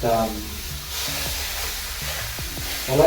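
Partly frozen chopped food sizzles in a pan with a soft, steady hiss, while someone talks over the cooking.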